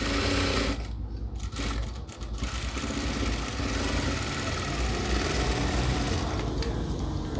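A sewing machine stitches saree fabric in a steady, dense, continuous whir that runs without a break, close and loud, with a brief dip in intensity near the start as the fabric is guided.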